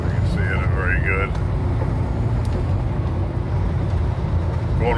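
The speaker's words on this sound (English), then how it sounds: "Going across the San Rafael Bridge" Steady, loud road rumble from a car driving across the San Rafael Bridge, continuous tire and engine noise throughout, with a brief muffled voice early on.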